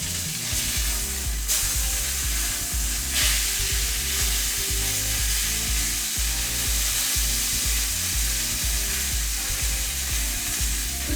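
Tri-tip steak sears in a hot pan, giving a loud, steady sizzle and crackle that runs unbroken and close for the whole stretch, with no voices over it.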